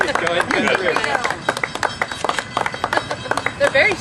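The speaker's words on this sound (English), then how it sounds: "we want to give them a big round of applause" Clapping from a small crowd at a ribbon cutting for the opening of Southern Sundays: scattered, fairly close claps that grow sharper and more distinct toward the end, with people talking over the start.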